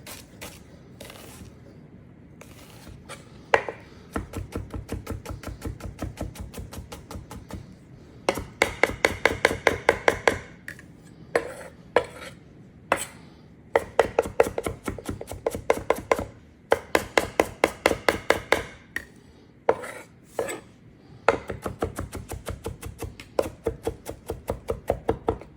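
A knife slices ingredients thin for crawfish and pork dumplings, producing rapid, steady bursts of crisp chopping strokes on a cutting board, close and loud, with brief pauses between runs and no talking.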